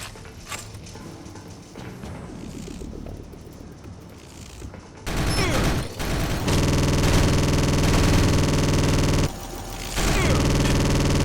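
A spinning gun in the video game Gene Troopers fires rapidly. It produces a loud, dense stream of shots that cuts out briefly and resumes, after a stretch of quieter mechanical clatter.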